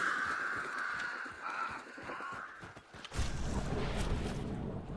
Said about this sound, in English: I don't know why I'm stealthing past these crows